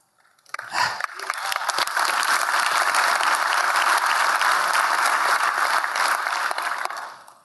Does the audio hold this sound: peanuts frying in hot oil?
no